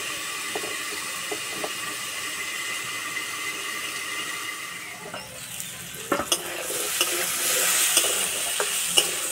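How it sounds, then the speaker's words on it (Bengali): Radish and radish greens stir-fry with a steady sizzle. Occasional scrapes and clatters of stirring grow louder and busier in the last few seconds. "সবজিগুলো ভাজা হয়ে গেছে।"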